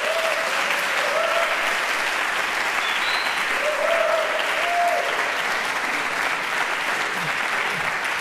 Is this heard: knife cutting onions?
no